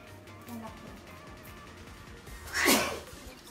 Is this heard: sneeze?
yes